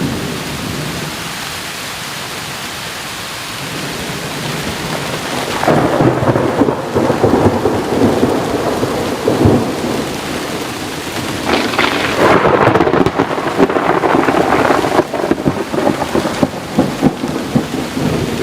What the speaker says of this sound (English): This is one of those angry thunderstorms you don't mess around with. You can just feel it in the thunder.